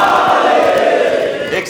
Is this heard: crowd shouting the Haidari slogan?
yes